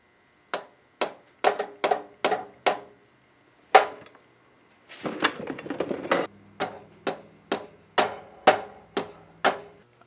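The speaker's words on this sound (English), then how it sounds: "punch the pin right up, and this part of the axle will be on and done" A hammer punches an axle pin into place on a 1999 Subaru Legacy Outback: about a dozen sharp metallic strikes in uneven rhythm, broken midway by a short burst of clattering, with no talking.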